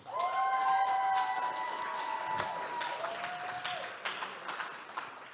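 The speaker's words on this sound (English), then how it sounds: "Let's give all of our contestants one more round of applause." Audience applause for contestants at a military base singing competition, steady clapping with a sustained musical tone running underneath, gradually tapering off.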